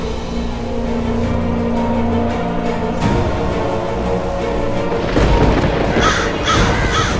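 Crows cawing in a loud, busy scene from a Hindi TV drama, harsh calls repeating over a dense rumbling background that grows brighter and more layered toward the end, with no talking.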